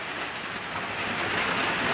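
Heavy rain pours steadily onto a tin roof, a dense, loud, continuous hiss and patter with no gaps, building slightly toward the end.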